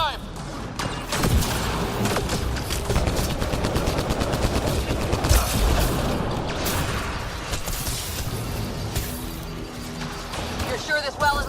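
Rapid turret gunfire from the video game Mass Effect Andromeda, dense and loud bursts of shots with mechanical clatter running through most of the stretch, alongside in-game voices.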